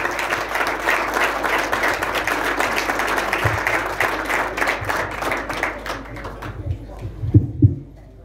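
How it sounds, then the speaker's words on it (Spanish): A crowd applauds at an endurance racing awards ceremony for the Copa Capitán Sarmiento. Dense, sustained clapping runs for about seven seconds, then thins and fades, ending with a few louder thumps. "Así que un aplauso para ellos."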